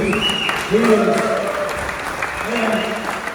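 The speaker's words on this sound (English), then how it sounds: "everybody needs to give a huge round of applause for Brian McMurray" A crowd at Tobacco Road Sports Cafe applauds and cheers during an address by a coach, with steady clapping and raised voices filling the room throughout.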